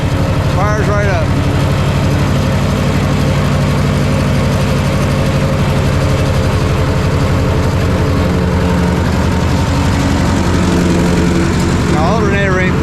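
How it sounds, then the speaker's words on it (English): An old engine starts and settles into a steady low idle with the choke on, rumbling continuously and fairly loud throughout, with brief whistling or squealing sounds near the start and the end. "Give her a little choke, fires right up."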